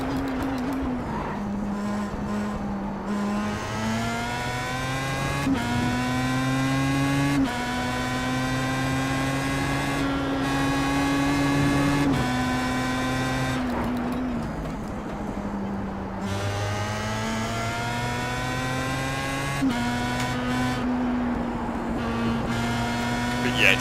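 Pro Mazda race car lapping Snetterton, a loud close onboard engine note rising through the revs, dropping sharply at each upshift or braking point and climbing again, sustained throughout.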